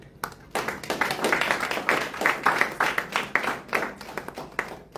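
A small audience at a book launch in Mozambique claps for the publisher. The claps are distinct and rhythmic, close by, and build after a few single claps into a brisk, moderate round before thinning out at the end.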